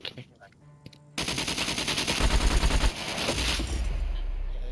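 Rapid automatic gunfire in the survival video game SCUM, loud and close, a quick burst of shots in dense succession after a quiet start, then continuing steady rattling rounds.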